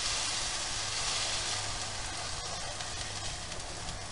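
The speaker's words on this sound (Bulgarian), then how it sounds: "Слагате на горещения тиган." Pancake batter sizzles in a hot frying pan, a loud, steady, close crackling hiss that holds evenly throughout.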